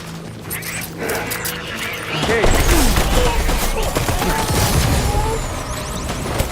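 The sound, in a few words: assault rifle gunfire in Death Stranding video game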